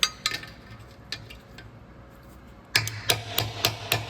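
Sharp metallic hammer blows strike irregularly as a 13 mm socket is hammered onto a bolt on a 2014 Kia Sorento 3.3L engine, sparse and light at first, then heavier and quicker strikes close by.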